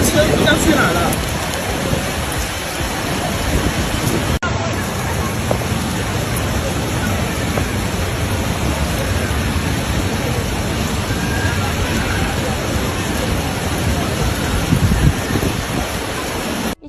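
Heavy rain pours steadily during a flood crisis in China, a dense, continuous hiss of downpour that holds an even loudness throughout, with a faint murmur of background noise mixed in.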